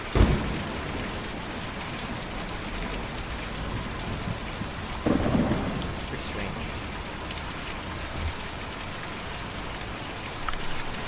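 Steady rain pours throughout in a video game, with low thunder rumbles near the start and again midway; a voice speaks briefly over the downpour.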